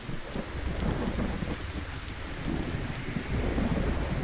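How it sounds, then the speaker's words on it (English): Heavy rain pours steadily with rolling thunder underneath during a storm in the video game Beasts of Bermuda, a dense, continuous wash of sound with no voices. "I'm lost in a storm"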